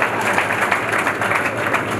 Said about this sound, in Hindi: और ताली तो इस बात पर थी